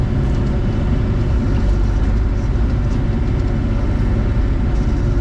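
Bobcat E42 R2 mini excavator loading a heavy stump into a truck, its diesel engine a steady, loud, low rumble running without a break.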